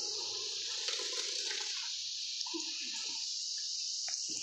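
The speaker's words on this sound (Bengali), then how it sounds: "এবার ভাতটাকে আমি ঢেলে দেবো।" Cooked fine Miniket rice poured out for egg biryani, a soft continuous watery rush with faint splashes and drips, steady and moderately quiet throughout.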